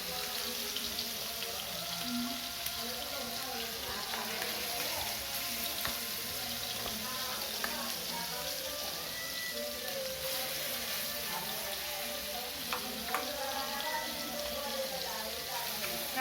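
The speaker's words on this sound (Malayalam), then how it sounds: "അപ്പോൾ നമ്മൾ ചെമ്മീൻ ഫ്രൈ ചെയ്തുകൊണ്ടിരിക്കുകയാണ്." Prawns frying in a pan for a Kerala-style prawn roast give a steady, even sizzle that runs throughout, with a voice speaking over it now and then.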